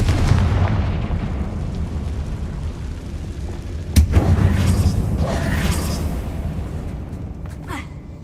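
A Confringo fire spell from Hogwarts Legacy explodes in a closed mine tomb with one sudden loud blast midway through. A low, rumbling game backdrop runs throughout, and fainter crackles follow the blast.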